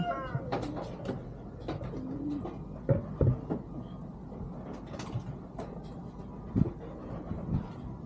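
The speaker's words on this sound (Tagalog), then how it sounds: "Pakain muna tayo ng ating mga ibon par." Several pigeons coo softly and repeatedly close by, amid light fluttering, scratching and rustling sounds, with no talking.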